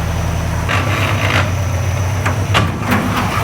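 An International Scout engine with a new carburetor is running just after starting. It gives a steady low idle rumble close up, broken by a few sharp clunks and knocks, with no talk.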